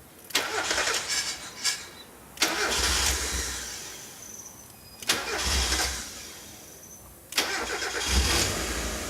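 An old Mazda MX-5 engine cranks and catches four times, each attempt a loud burst of turning over that briefly fires into a rough idle before dying away, heard up close.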